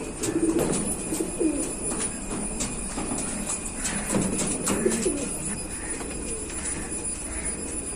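Racing pigeons that flew in a tournament coo repeatedly close by, soft throaty calls rising and falling in overlapping bursts over a steady background hum.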